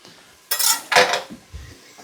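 A big kitchen knife is shifted across a counter while potatoes are being prepped for Brunswick stew, giving two quick metallic scrapes and clatters close by, then a soft thud.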